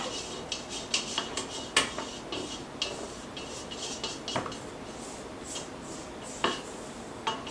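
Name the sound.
spatula scraping down the sides of a mixing bowl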